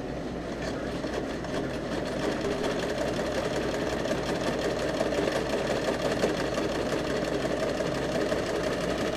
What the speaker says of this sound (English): we can use a sewing machine in front of everybody